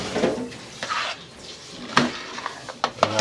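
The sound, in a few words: stirring cornmeal coo coo in a pot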